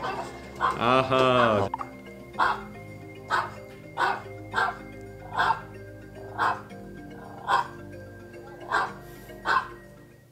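A five-year-old Maltese dog at home barks sharply about nine times in a steady, evenly spaced rhythm, close and clear, after a short burst of voice at the start.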